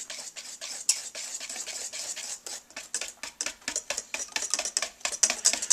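Hot milk is stirred into eggs in a pot, a utensil scraping and clicking quickly against the metal in a busy, rapid rhythm, close and fairly faint.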